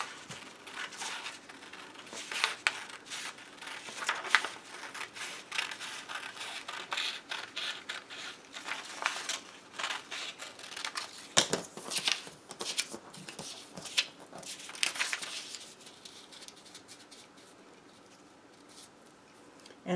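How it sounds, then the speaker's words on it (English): Scissors cut through fabric for an enlarged scrub cap pattern with a ponytail, a run of close, crisp snipping and rustling strokes that stays busy before quieting toward the end, with no talking. "I'm going to cut here."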